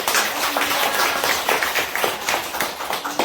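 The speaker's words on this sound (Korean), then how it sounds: "박수로 부탁드립니다." A group gathered at a cultural event in a traditional hanok village claps steadily, a close, full burst of many hands lasting a few seconds.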